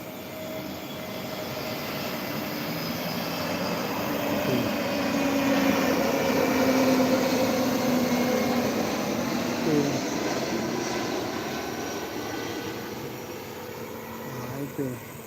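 A plane passes over a house in a residential lane in Biringkanaya, Makassar, its engine roar swelling and fading across a long stretch, with faint voices and street noise in the background.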